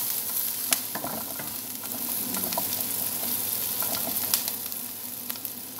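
Onions browning in a pan for sautéed spinach, a steady close sizzle with intermittent scrapes and clinks of stirring throughout, no voices.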